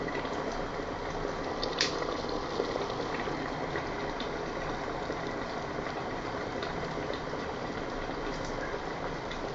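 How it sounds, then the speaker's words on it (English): An electric kettle brings water to a rolling boil, giving a steady, dense bubbling rumble that continues unbroken at close range, with no voices. "See, the water is boiling."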